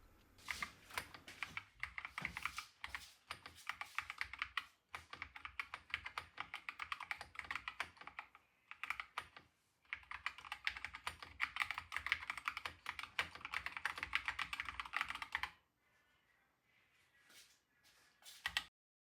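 Fingers type on a homebuilt Don Lancaster ASCII keyboard, rapid close clicking keystrokes in bursts with short pauses, then a quieter stretch and a final key press.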